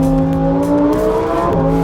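Lamborghini Huracán STO on Potenza Sport tyres accelerating hard on a track hot lap in third gear, a loud, close engine howl with steady harmonics that climb, then a brief dip and recovery near the end.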